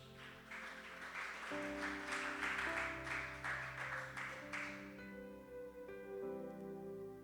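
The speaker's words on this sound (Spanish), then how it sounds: "Denle un fuerte aplauso al Señor." Congregation applauding during a church service, a dense broadband patter of many hands sustained for several seconds alongside steady organ-like sustained tones, with no voices on top.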